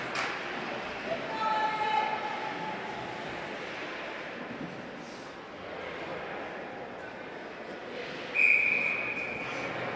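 A referee's whistle blows at a high school ice hockey game between arena crowd noise and a commentator's voice, with a short shrill tone early and another brief sharp blast near the end.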